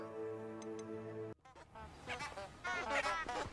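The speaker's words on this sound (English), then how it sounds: "Hey, the geese plants. What are they called? Honking daffodils." A honking daffodil plant in the Hogwarts Legacy video game lets out a sustained, goose-like honk, then a voice talks over soft background game sound.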